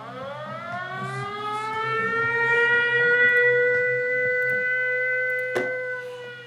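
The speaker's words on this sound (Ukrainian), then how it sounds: "Особливо коли застосунок тривога починає працювати" An air raid siren alert from a phone app wails loud and near, its tone sweeping upward and holding steady, with a brief click partway through.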